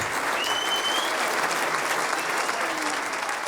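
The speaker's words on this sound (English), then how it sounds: "please give a huge round of applause" A large audience at a Scottish football celebration event claps steadily and loudly throughout, a dense sustained wash of applause.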